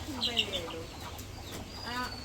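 Soft clucking and short calls from chickens nearby, quiet and intermittent over low background noise.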